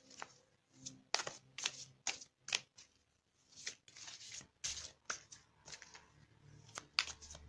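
Tarot cards are drawn and shuffled from a deck in a string of soft, quiet flicks, slides and papery snaps with short pauses between them.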